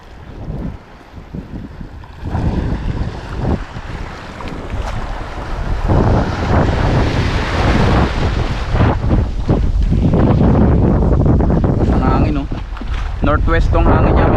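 Steady, roaring northwest wind at sea buffets the microphone while fishing, with broadband rushing noise building over the clip while a voice talks intermittently underneath.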